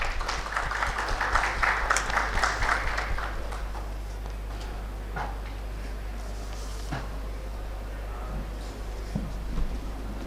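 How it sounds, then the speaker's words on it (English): Audience applause at an Urban Infra 2024 railway and transport conference, a burst of many hands clapping that is loudest at the start and fades after about three seconds, leaving a low room hum with scattered claps and shuffles. "Can we please have a big round of applause"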